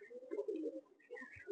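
A Malwai pigeon coos softly up close, a short run of low rolling throaty notes with a brief pause before a few more, faint and alone.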